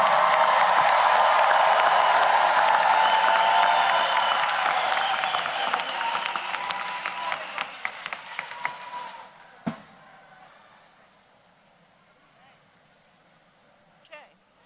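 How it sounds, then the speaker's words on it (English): Audience at the Rutgers School of Social Work convocation applauding and cheering undergraduate graduates. Dense, loud clapping fills the first nine seconds, then thins out and fades to near silence with a lone sound near the end. "As you come forward, we will applaud you."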